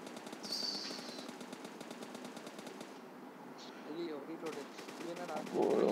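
Rapid automatic gunfire in the mobile battle royale game PUBG Mobile Lite, steady bursts of shots running throughout alongside game effects, with players talking over it.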